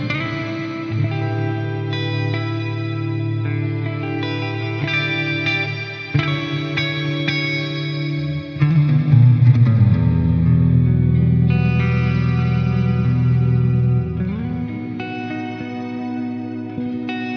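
An electric guitar played through a Walrus Audio Mira optical compressor and a reverb pedal rings out in sustained, evenly compressed chords and notes with a lush reverb wash, shifting to a deeper, fuller passage midway.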